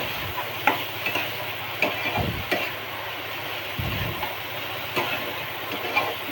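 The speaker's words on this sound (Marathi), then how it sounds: "आता चांगलं परतून घेऊया परत." Moong and matki bhaji with crushed peanuts being stir-fried in a pan, a low continuous sizzle with rhythmic scraping and occasional utensil knocks, close, no speech.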